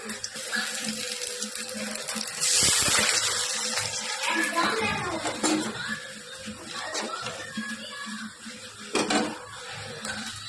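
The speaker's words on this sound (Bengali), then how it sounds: "সেটা আমি তেঁতুল জলটা ঢেলে দেব" Tamarind water splashes into hot oil tempered with five-spice, dried red chilies and green chilies, giving a burst of pouring and sizzling with clinks of a pan and utensil, loud at first and then settling.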